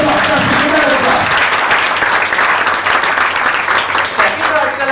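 Dense audience applause from a large crowd at a talk, steady and loud throughout with many overlapping claps and no pause.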